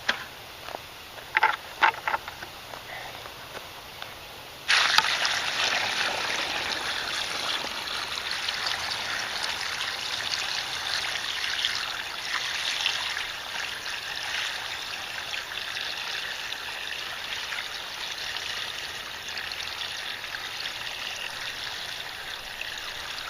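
Water pours steadily into a homemade bamboo water feature. A few faint taps come first, then a loud continuous splashing stream runs for nearly twenty seconds without voices.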